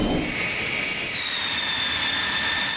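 L-39 Albatross jet engine running steadily inside the cockpit before takeoff, a loud continuous roar with high turbine whines sliding in pitch, no voices.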